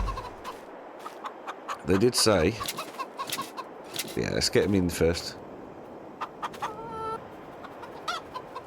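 Chickens clucking and cooing in a Farming Simulator survival roleplay game, several short bursts of fowl calls near at hand, heard alongside someone talking over the game audio.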